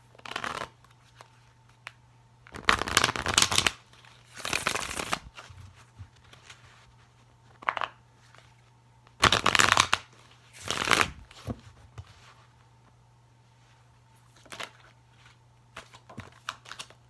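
Tarot cards being shuffled in several brisk riffling bursts, close and fairly loud, separated by quieter pauses with a steady low hum underneath.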